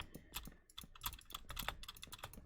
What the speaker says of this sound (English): Sorry if you can hear any like clicking or anything, that's my keyboard trying to play Minecraft.